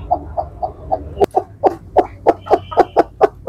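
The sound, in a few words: desi hen clucking while brooding eggs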